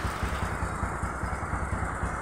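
A Honda Supra 125 motorcycle engine idles close by with a steady, even chugging throttle, running alone with no voices.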